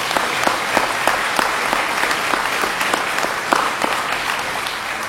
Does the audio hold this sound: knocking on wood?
no